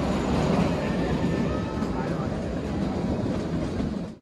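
Kalka–Shimla narrow-gauge toy train in the hills entering its first tunnel, a loud continuous rumbling roar of wheels and carriages that cuts off abruptly at the end.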